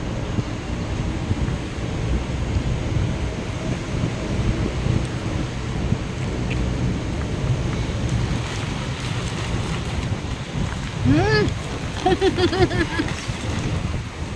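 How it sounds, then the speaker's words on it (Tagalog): A strong wind roars and buffets the microphone steadily throughout, with a brief higher-pitched call breaking through near the end. "Ang lakas ng hangin."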